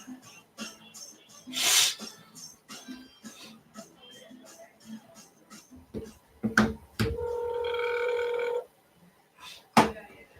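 An outgoing phone call to a spa business rings once as a steady held tone for about a second and a half, close and clear, with brief scattered clicks and noises before it.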